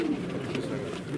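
A Baku breed pigeon at a bird market in Pyatigorsk gives a low, brief coo close by, with crowd murmur and market bustle behind it.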